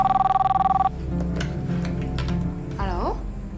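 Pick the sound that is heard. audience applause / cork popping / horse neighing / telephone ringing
telephone ringing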